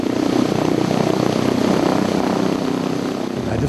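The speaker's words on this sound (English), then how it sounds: "I just love to hear the engines," Propeller engines of a B-17 bomber drone in a steady, loud, continuous roar with a dense low throb and no pauses.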